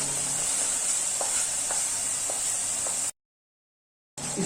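Thick puliyodarai tamarind paste bubbling in a pan, giving a steady close sizzling hiss with occasional soft pops, then a brief cut to silence before the hiss returns.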